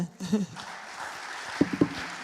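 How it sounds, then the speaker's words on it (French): An audience at a school and business event breaks into applause, a soft continuous wash of clapping under a few nearby voices. "Je pense qu'on peut les applaudir."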